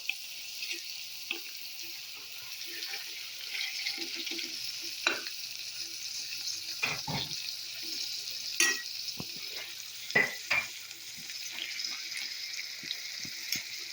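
Drumsticks and tomato fry in oil for a prawn curry, a quiet steady sizzle punctuated by scattered scrapes and taps of stirring, some sharper, close by.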